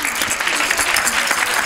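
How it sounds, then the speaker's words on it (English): An audience at a Vedic school children's program claps steadily after a performance, a dense, even patter of many hands filling the room without pause. "Please clap for them."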